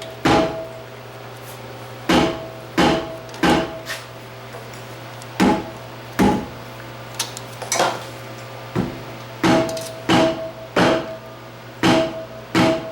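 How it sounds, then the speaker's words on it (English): A mechanic pounds on a Dodge's wheels frozen onto the brake drums: sharp, hard knocks land singly and in quick pairs at irregular intervals over a steady low hum in a workshop. "Dodges have a habit of their wheels freezing onto the rim, onto the drums. That's what the pounding noise is you hear."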